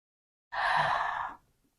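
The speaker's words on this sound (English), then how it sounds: "Inhale." A single deep breath drawn in audibly through the mouth, a close, steady breathy rush lasting under a second that fades away cleanly, with no talking around it.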